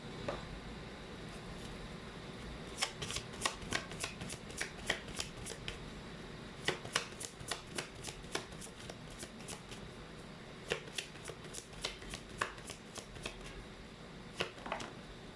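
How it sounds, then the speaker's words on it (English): Tarot cards being shuffled in bursts of quick riffling flicks, close and fairly quiet, with brief pauses between runs and no talking. "let's actually pull up more cards"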